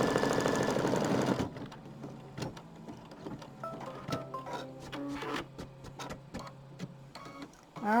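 An embroidery machine sews a triple stitch around a raw edge appliqué moon on a Halloween haunted house quilt block, with rapid close ticking and knocking after a loud opening burst of noise, and no voices.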